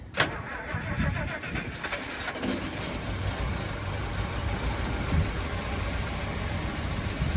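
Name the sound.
1961 Rolls Royce Silver Cloud II engine starting and idling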